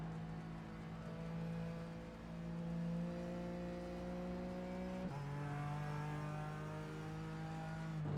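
Race car engine in iRacing at Watkins Glen, held at a steady, cautious throttle with a smooth sustained drone that shifts pitch once midway, moderately loud and without talk.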